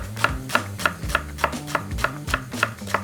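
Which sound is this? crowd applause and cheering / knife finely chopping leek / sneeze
knife finely chopping leek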